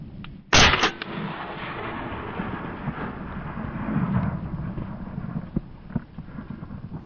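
A single loud, close shotgun blast while duck hunting in a marsh, followed by a steady rush of wind buffeting the microphone and faint outdoor ambience.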